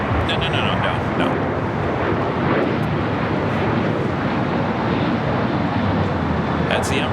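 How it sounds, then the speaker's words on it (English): An Emirates Airbus A380 arriving from Dubai at LAX rumbles loudly and continuously, with heavy broadband roar and wind buffeting the microphone, while voices talk underneath. "That's the Emirates Flight 215 coming up from Dubai."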